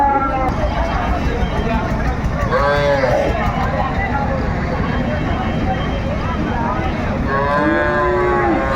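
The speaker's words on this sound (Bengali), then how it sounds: "আতাউর ভাই একটু গরুগুলো আমরা দেখি কেমন দামে কিনলেন" Sahiwal cattle and bulls at a farm in Rajshahi, with several loud, close moos rising over constant crowd chatter and people talking nearby.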